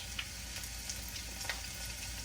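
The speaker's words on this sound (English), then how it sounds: "drop a piece of onion in. And if it starts to sizzle, you know." A piece of onion sizzles in hot frying oil, a steady close crackling hiss with scattered small pops, quiet and alone.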